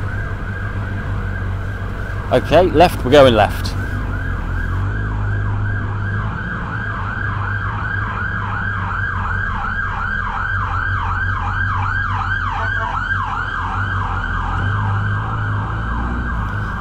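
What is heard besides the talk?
ambulance siren approaching from behind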